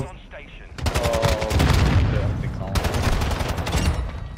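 Rapid automatic gunfire in the Call of Duty Modern Warfare 2 video game, two loud sustained bursts of fast shots separated by a brief pause, with a voice faintly present underneath.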